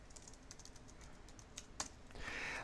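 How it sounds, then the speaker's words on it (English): Fingers tap on a computer keyboard in a quiet room, a run of light, uneven clicks at close range. "you can start typing from here"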